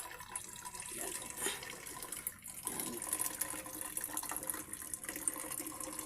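Clear water flows and trickles beneath rocks outdoors, a steady, soft wash with light splashing that runs continuously without any talking.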